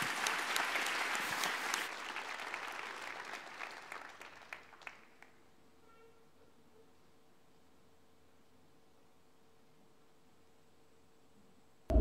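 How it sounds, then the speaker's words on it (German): Audience applause at a cosplay contest, starting loud and full, then thinning to scattered claps and fading out by around five seconds, followed by near silence. "Ein Applaus."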